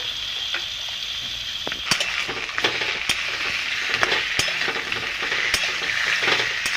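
Garlic, chopped green chillies and pumpkin fry and sizzle steadily in a pan for kumro bhorta, with a spoon stirring and scraping through them in irregular clicks, close and alone.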